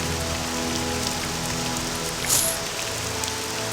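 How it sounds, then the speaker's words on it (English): Steady rain ambience in The Elder Scrolls III: Morrowind, played in OpenMW with mods, a constant even hiss of falling rain with one brief brighter patter, no voices. "Nice little rain going out here."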